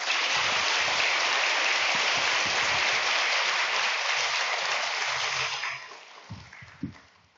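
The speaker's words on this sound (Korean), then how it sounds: "큰 박수로 모시겠습니다." Warm applause from a church congregation at a Sunday noon service, welcoming the senior pastor; a dense, steady wash of clapping that fades out in the final seconds, leaving a few scattered claps.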